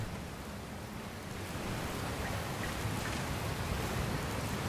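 Heavy storm rain pours down on a ship in the video game Dragon Quest Builders 2, a steady, dense hiss that thickens slightly after the first second and keeps going without pause.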